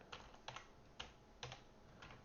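Computer keyboard being typed on in short irregular bursts of clacking keystrokes, close and moderately loud, with no talking.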